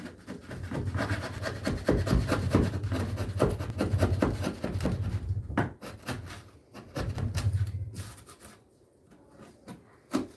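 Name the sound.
IRWIN folding chisel working a wooden corner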